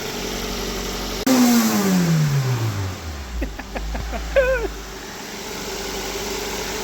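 A fully rebuilt Toyota Corolla FX 20-valve engine is blipped to a sharp rev that falls back toward idle, followed by a few quick throttle pops and a short second rise, loud and close.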